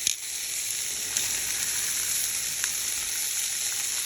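Cabbage steaks fry on a hot pan or tray while seasoning is prepared, giving a steady, close, continuous sizzle with faint crackles and a few brief pops, no voices.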